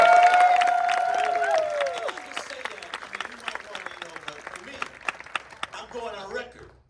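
An audience at a TIFF special screening of Talking Heads' Stop Making Sense breaks into loud applause and cheering that gradually thins into scattered claps, while a voice talks over the start.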